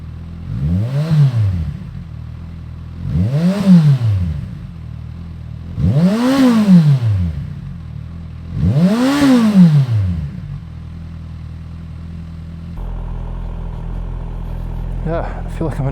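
A Kawasaki Ninja 1000 (Z1000SX) fitted with a LeoVince Factory S carbon exhaust revs up and falls back four times in a steady rhythm, loud and close, then settles into a lower, even idle.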